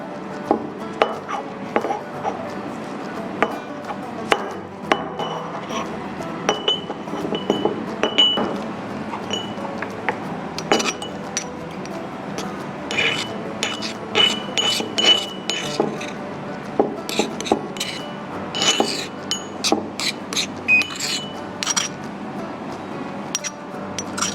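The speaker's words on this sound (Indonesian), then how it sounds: "Setelah kita masukkan ke dalam mortal, maka langkah selanjutnya adalah kita haluskan." Melon flesh being pounded and ground in a mortar, with irregular close knocks and clinks of pestle against the bowl, quicker and denser toward the end, and no talk.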